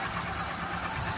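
Ford Cortina MK3 engine idling with newly fitted HT leads, a steady, even, close rumble that runs without a break and with no voices.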